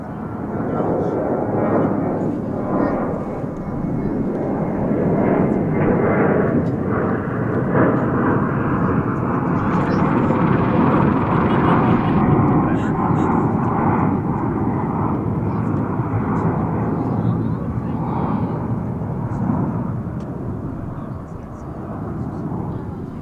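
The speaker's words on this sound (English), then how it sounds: "here's a takeoff" An American Airlines jet taking off from runway 35 Center at DFW Airport, bound for Phoenix, roars as a loud, steady, broadband engine rumble that swells slightly mid-way and holds for over twenty seconds.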